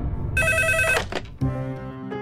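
An electronic telephone ringtone sounds in two bright, sustained bursts, loud and close, with no one speaking.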